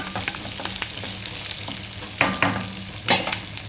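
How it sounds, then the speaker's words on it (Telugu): Oil sizzles steadily in a pan while a spoon stirs and scrapes, with a few sharper clinks against the metal. "తాలింపు అనేది మనకి కొంచెం ఇలా మగ్గితే చాలండి"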